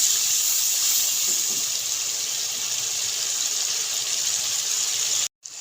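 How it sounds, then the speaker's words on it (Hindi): Masala spices frying in a pan for an egg ghotala dish give a steady, loud hiss that holds evenly, broken by a short silence near the end. "मसाले को हमने अच्छा सा 2 से 3 मिनट भूनना है।"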